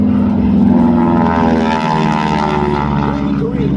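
A T-6 Texan propeller airplane flies a performance at the SoCal Airshow 2025, its radial engine producing a loud, steady, throbbing drone with a buzzing harmonic whine that holds through the whole stretch.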